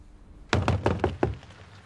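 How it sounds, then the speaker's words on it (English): Knuckles rapping on a door, five quick loud knocks in a tight burst, close and alone with no talk. "she's knocking at door."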